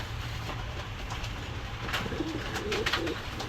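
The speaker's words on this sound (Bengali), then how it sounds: "দর্শক এক জোড়া পায়রা কবুতর আছে" Soft, low cooing of Pakistani high-flyer pigeons in a shop, repeating through the clip over a steady background hum.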